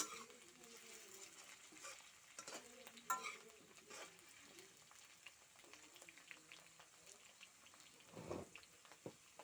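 Potatoes frying in a pan for a local chicken curry, a quiet soft sizzle with occasional stirring scrapes and clinks, fairly faint and continuous.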